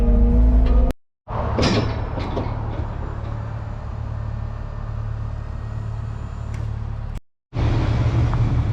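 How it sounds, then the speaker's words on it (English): The steel loading ramps of a triaxle trailer clank and scrape down onto the ground over a loud idling truck engine, with sharp metallic bangs near the start and brief dropouts in the sound. "Ramps are hitting the ground, guys."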